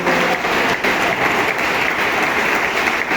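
Steady applause from a church congregation, dense and loud, filling the space evenly without pause.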